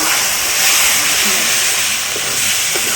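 Ground cumin, coriander, chili, turmeric, meat masala and chicken masala fry in a pan for a meat curry, producing a loud, steady, close sizzling hiss throughout.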